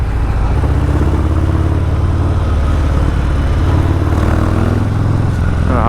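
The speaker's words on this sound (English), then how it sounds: "Check out the pickup of the bike." A Harley-Davidson Fat Bob motorcycle engine roars loud and close, accelerating with a deep, continuous throaty rumble that holds steady across the whole stretch, and no voices are heard.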